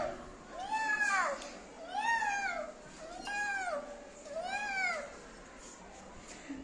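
A child in a classroom activity imitates a cat with four drawn-out, rising-and-falling meows at a steady pace, each separated by a short pause, fairly close and clear.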